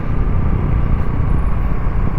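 Steady road rumble of a passing car on a quiet road near a Marine camp in Cavite, broadband engine and tire noise holding loud and even throughout with no talk.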